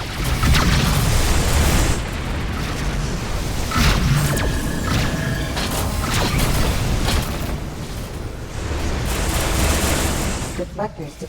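Missiles slam into a ship during space combat in a video game, producing heavy, continuous rumbling booms with mechanical creaks and clanks that stay loud and dense throughout.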